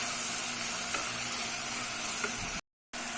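A ground paste sautés in a pan for millet pulao with a continuous close sizzle and a few faint clicks, then cuts to a brief silence near the end.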